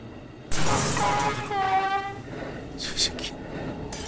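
A train running in a horror video game about a funeral train at dusk, a sudden loud rumbling rush with a rising, wavering metallic screech and some clatter, with speech over it.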